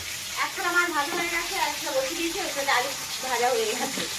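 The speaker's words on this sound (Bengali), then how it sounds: "আর মাছ ভাজা চলছে।" Fish frying in a pan gives a soft, steady sizzle beneath people talking nearby.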